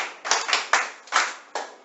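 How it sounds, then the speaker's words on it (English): A classroom of students claps for a classmate after she explains an OR logic gate: a short burst of five or six uneven, overlapping clap bursts, moderately close, with no talking. "Please clap for her."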